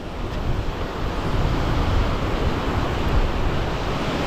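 Strong wind buffeting the microphone on a beach while casting a popper lure, a continuous loud roar mixed with surf, no voices.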